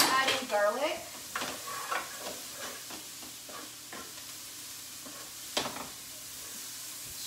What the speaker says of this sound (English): I threw in a diced red onion, and now I'm adding garlic.